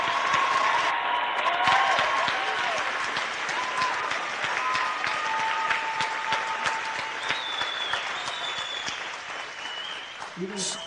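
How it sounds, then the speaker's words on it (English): Audience applause at the Dawson Community College 2023 graduation ceremony, a continuous broad roll of clapping from a large crowd that slowly eases, with a few whoops and voices under it. "Give them applause and please remain standing."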